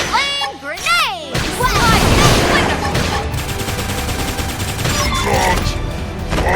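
A flame grenade attack in the sci-fi game Xenoblade X: after brief voiced calls, a sharp blast erupts into a dense crackling, rattling burst that fades into a sustained fiery roar with scattered impacts.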